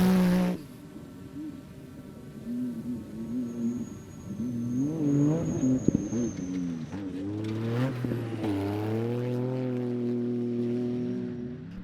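A Pro Buggy off-road racer at the 2022 Pooncarie Desert Dash roars through a flying lap, its engine note rising and falling through gear changes, moderately loud and passing near, with a high whine overhead.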